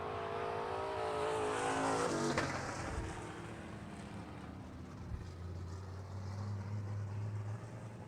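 Limited modified race cars running a heat race on a dirt track, engines roaring loud as they pass close by and then fading into a steady drone from farther around the circuit.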